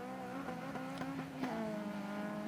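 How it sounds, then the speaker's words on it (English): A Honda Type R race car with a VTEC engine screams out of a hairpin at Snetterton, changing from second to third gear. The steady, high-pitched engine whine is faint and distant, with brief rises as it accelerates through the shift. "the VTEC engine there screaming as he goes out second to third gear out of the hairpin"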